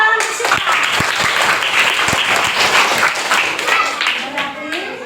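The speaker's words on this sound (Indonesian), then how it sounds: "tepuk tangan ke Sifat" A classroom of students applauds their classmate Sifat, a dense, steady wash of many hands clapping at once, loud and close, holding evenly for several seconds.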